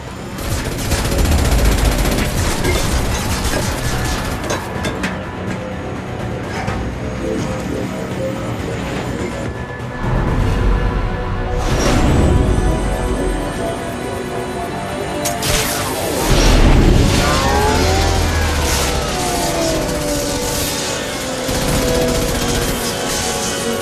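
Mass Effect 2 combat fills the scene with loud, dense gunfire bursts, blasts and crashing impacts, layered over roaring engine-like rumble and sweeping effects, continuous and close without a break.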